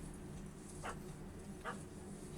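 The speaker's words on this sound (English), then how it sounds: "Don't know how to handle yappy little dogs?" Yappy little dog in The Witcher 3 video game, two short, faint yips spaced apart over a steady low background hum.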